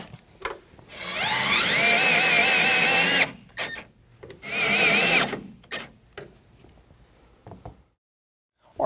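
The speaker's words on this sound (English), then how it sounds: "Each one of those, we're going to put 1 more of our self-tapping screws." Power drill driving self-tapping screws into a truck bed toolbox bracket on a 2020 Ram 2500: two loud, whining motor runs of a couple of seconds each, with clicks and handling clatter between and after.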